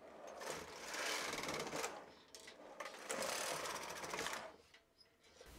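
Brother 260 bulky knitting machine carriage run across the bed to knit rows, a loud rasping clatter in two long sweeps separated by a short pause, with no speech.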